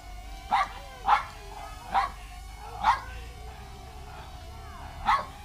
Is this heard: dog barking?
yes